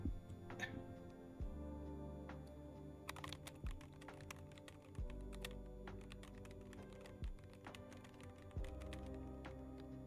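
Rapid clicky computer keyboard typing in close, dense bursts of sharp key clacks with brief pauses, over a steady low background hum; no talking.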